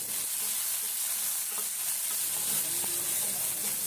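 Tomatoes, green chili and salt frying in a pan make a continuous hissing sizzle with a few faint scrapes and taps of stirring, steady and close with no talking.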